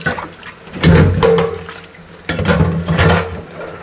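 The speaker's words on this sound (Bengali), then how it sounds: "আমি সোয়াবিনটাকে এভাবে ভালো করে 2 বার ধুয়ে নিই, 2-3 বার ধুয়ে নিই" Soybeans being rinsed in water, with bursts of splashing and pouring in two close, fairly loud waves as the beans are swished and washed by hand.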